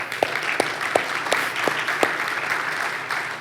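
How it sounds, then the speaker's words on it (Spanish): A church congregation applauds during a service. Steady crowd clapping is punctuated by a few louder claps falling in a regular beat, and the sound stays moderately loud throughout. "denle un aplauso al Señor"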